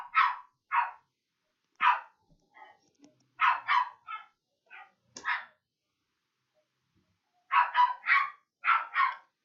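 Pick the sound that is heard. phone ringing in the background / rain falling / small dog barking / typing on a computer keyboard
small dog barking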